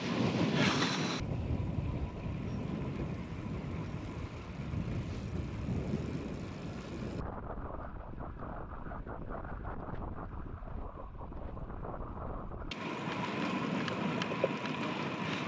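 Steady, loud wind buffeting the microphone while cycling on a grey, overcast, windy day, a constant roar with a quieter muffled stretch in the middle, no voices.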